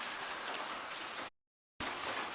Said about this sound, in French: C'est un mélange de pluie, de grêle et de grêlon.